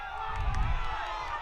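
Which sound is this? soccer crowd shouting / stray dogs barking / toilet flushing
soccer crowd shouting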